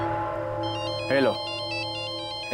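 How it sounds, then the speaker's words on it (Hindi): A phone ringtone plays a repeating electronic melody of short beeping tones over a steady hum, broken by brief bursts of sound, fairly close and clear. "एगो प्रेम दीवानी का फोन आ गया।"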